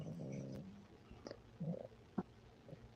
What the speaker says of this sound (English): No, that's my dog snoring.